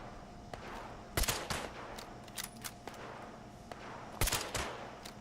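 Enemy gunfire in Fallout 76 crackles in sharp bursts, several loud single shots and short volleys spaced across the stretch over a low background hum, with no talking.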